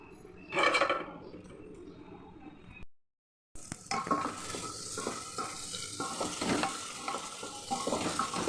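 Whole spices hit two tablespoons of hot oil in a pressure cooker for a chicken stew, starting a loud, steady sizzle after a short silence, with stirring scrapes throughout.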